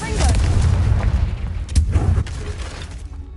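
A Confringo fire spell explodes in the Hogwarts Legacy video game with a loud, rumbling boom, a deep sustained blast with crackling texture, fading over about three seconds, with voices talking over it.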